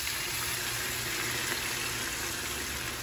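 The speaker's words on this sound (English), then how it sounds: "Now we're gonna add like a boiling water." Boiling water pours steadily into a pan of rava for upma, a continuous broadband rush and splash that stays even and close for the whole stretch with no talking.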